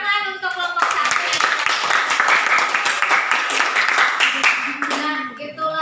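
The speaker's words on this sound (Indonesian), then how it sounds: "tepuk tangan untuk kelompok 1" A classroom of children claps for group 1 during a guidance lesson: brisk, close hand clapping from a small group, with voices talking just before and after it.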